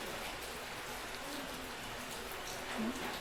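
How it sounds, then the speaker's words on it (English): Heavy rain pours down steadily, a dense, loud, continuous hiss of downpour filling the scene with no pauses or voices. "That was a lot of rain. It's pouring hard."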